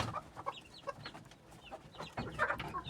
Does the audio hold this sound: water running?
no